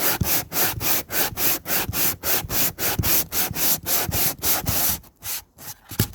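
Brand-new coarse-grit sandpaper rubs back and forth across a surface in a fast, even rhythm of loud, close, raspy strokes, about three per second, with no talk.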